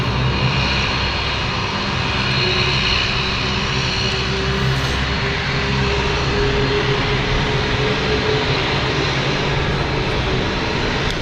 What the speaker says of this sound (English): the taxiing lights of the Dash 8 are now making their way to the runway